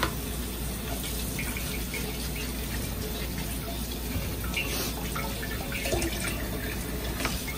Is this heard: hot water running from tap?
yes